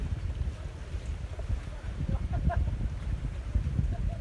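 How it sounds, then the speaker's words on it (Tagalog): Sea waves wash in steadily along a breezy shore, a continuous low rumbling surge mixed with wind buffeting the microphone, fairly close and unbroken throughout. "Naririnig nyo ba yung alon?"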